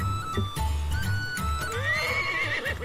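Horse whinnies in the Atelier Lulua role-playing game, a clear neigh rising and wavering near the end over low rumbling game ambience and music, with no talk.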